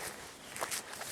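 Outdoor wind buffeting a microphone, a steady broadband rumble with gusty swells, fairly loud and continuous with no voice over it.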